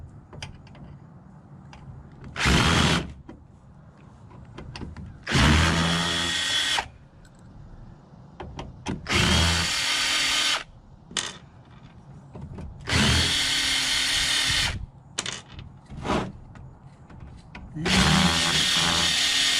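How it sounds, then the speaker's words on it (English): A power drill driving out the power supply screws on an old desktop computer, heard as about five loud, separate whirring bursts with pauses between them and no talking. "We're going to do what we do with most computers and take out the screws for the power supply"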